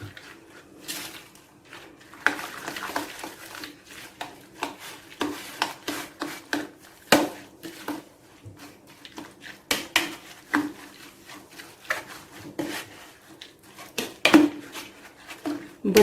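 Three eggs being mixed with other ingredients in a bowl for a potato and egg dish, a utensil scraping and tapping against the bowl in quick uneven strokes, fairly quiet, with no one talking.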